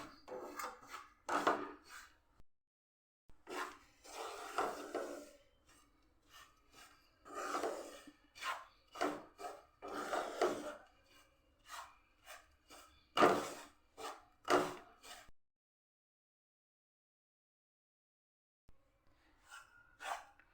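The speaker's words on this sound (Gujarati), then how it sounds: "અહીંયા આપણે રવો શેકીએ છીએ" Semolina (rava) dry-roasting in a pan over a low gas flame, heard as repeated close scraping and rubbing strokes in irregular bursts with brief pauses and a quiet stretch near the end.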